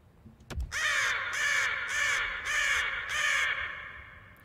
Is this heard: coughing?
no